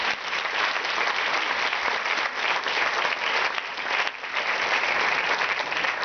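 An audience breaks into a sustained round of applause at an awards honoring event, dense even clapping from many hands with no voices standing out.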